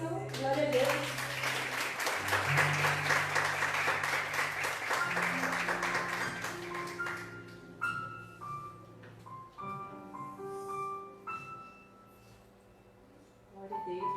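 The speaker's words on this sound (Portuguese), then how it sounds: "Aplauda o Senhor, glória a Deus." Congregation applause in a church during a women's gathering, a strong burst of clapping over sustained keyboard chords that tapers into scattered claps as the music continues, with voices speaking over it.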